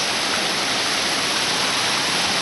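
Indoor cave waterfall inside the Bass Pro Shops Pyramid in Memphis, Tennessee: a dense, steady rush of falling water fills the whole stretch, loud and close, with no voices.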